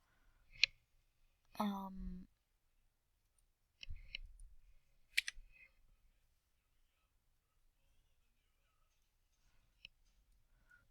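Sparse computer mouse clicks in ArcGIS software, a few short sharp ticks spread across a quiet background, with brief bursts of a soft voice between them.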